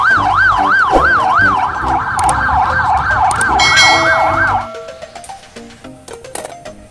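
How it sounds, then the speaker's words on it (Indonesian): A toy ambulance siren wailing in a steady up-and-down electronic tone, loud and close, cutting off abruptly after about four and a half seconds and leaving quiet background with faint clicks. "Wih, lihat ada mobil ambulan."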